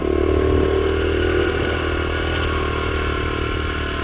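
A small Honda Trail CT70 motorcycle rides through mowed farm fields. Its engine drones loud and steady right up close, with faint rattles over it and no talking.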